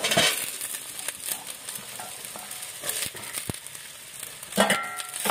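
Green peas frying in a pan with onion and turmeric, a continuous close sizzle broken by irregular bursts of spitting and a few stirring scrapes, no talking.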